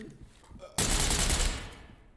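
Low murmuring gives way to a sudden rapid burst of Glock pistol fire in the video game Ready Or Not, loud and close, fading over the next second.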